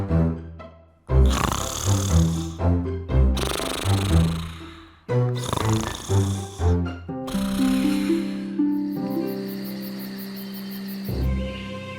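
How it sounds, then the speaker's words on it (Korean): Loud, exaggerated cartoon-style snoring, long drawn-out breaths repeating in a slow rhythm, with a tinkling musical flourish near the end. "그는 공주들이 준비한 방에서 밤새도록 코를 골며 잠을 잤답니다."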